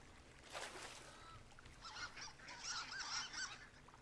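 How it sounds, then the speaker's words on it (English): A duck in the Firewatch video game calls in a burst of nasal, honking quacks that come close together in the second half, preceded by a quieter rustle, with no voices. "What's that? Is that a duck?"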